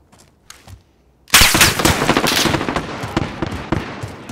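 Call of Duty Modern Warfare multiplayer gunfire breaks out suddenly after quiet, loud rapid shots crackling close and continuing steadily for a few seconds.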